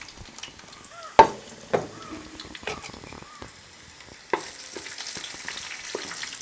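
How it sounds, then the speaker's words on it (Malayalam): Chopped garlic and ginger fry in hot oil for a Kerala-style beef pepper roast, giving a soft, steady sizzle broken by a few sharp clanks of a utensil against the pan. The frying grows brighter and louder toward the end. "അപ്പോൾ നമ്മുടെ വെളുത്തുള്ളി എല്ലാം ഒന്ന് മൂത്ത് വരുന്നുണ്ട്"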